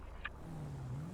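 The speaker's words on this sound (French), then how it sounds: "Il remonte dans son véhicule." Car engine in a video game holding a steady low hum that rises slightly as the vehicle pulls away, with a brief high chirp early on; fairly quiet and without talk.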